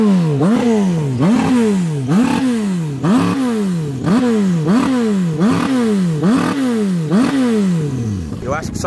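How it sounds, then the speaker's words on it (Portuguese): A turbocharged motorcycle engine revs in a fast, regular loop, each rev sweeping up then dropping back roughly twice a second, loud and close for the whole stretch before fading out at the end. "o barulho da moto é muito alto perto do barulho da turbina"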